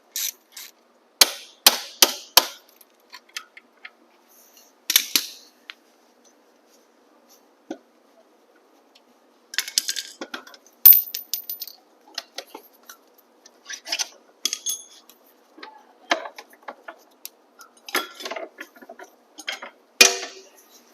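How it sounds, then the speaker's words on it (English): Rear axle removal on a Talaria XXX electric bike using 17 and 6 tools: sparse, close metallic clicks, taps and short ratcheting scrapes separated by quiet gaps, with no talking. "So go ahead and remove the rear axle with a 17 and a 6."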